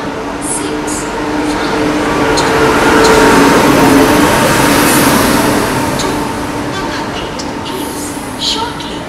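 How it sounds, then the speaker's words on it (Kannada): A Trivandrum Central to CSMT express pulling into platform 4 at a station, its low rumble and rolling clatter swelling and then easing, with a voice talking over it and a few brief higher squeals. "ನಮ್ಮ ಟ್ರೈನ್ ಸದ್ಯಕ್ಕೆ ಅರೈವ್ ಆಗಿದೆ ಪ್ಲ್ಯಾಟ್ಫಾರ್ಮ್ ನಂಬರ್ 4ಗೆ"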